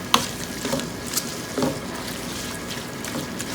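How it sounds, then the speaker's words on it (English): Minced kheema cooks in a pan for a karela dish, giving a soft steady sizzle with a few scraping stirs near the start and middle. "So again we will let it cook"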